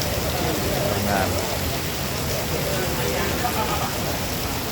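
Heavy rain pours during a storm at night while someone waits for a ride home after work, a steady, dense broadband hiss that fills the whole clip without pause.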